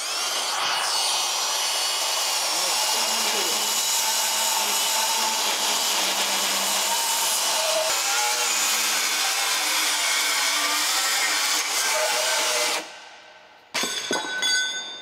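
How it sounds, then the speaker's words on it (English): A bandsaw with a badly worn blade cutting metal, a loud continuous grinding, rasping whine close up that runs steadily for about thirteen seconds before cutting off abruptly, followed by a brief clatter. "That blade on that bandsaw has completely had it."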